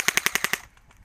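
A rapid burst of six loud, sharp gunshots from a shooter video game, evenly spaced and close, then cutting off into quiet low game ambience.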